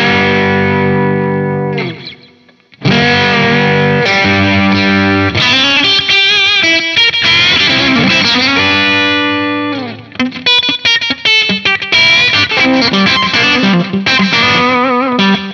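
A Wampler Black '65 vintage overdrive pedal shapes an electric guitar into warm, distorted tones: sustained chords, a short pause, then busy riffs and single-note runs played loud and up close with light reverb.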